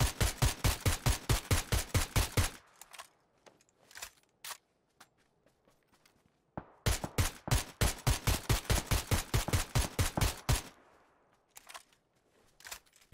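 Two long bursts of rapid automatic gunfire from the battle royale game PUBG, played on console, loud and rhythmic, separated by a quieter gap with scattered single shots and clicks.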